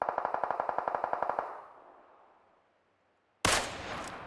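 M416 rifle fire in PUBG Mobile: a rapid, evenly spaced burst of about a dozen loud shots that trails off into echo, then after a short silence a single sharp, loud crack.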